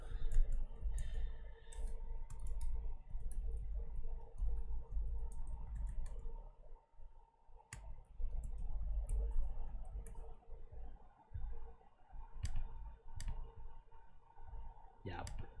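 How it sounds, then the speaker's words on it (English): A computer keyboard gives scattered bursts of sharp, close typing clicks at an uneven rhythm, set against a low background hum with a voice speaking at times. "what the fuck is this keyboard?"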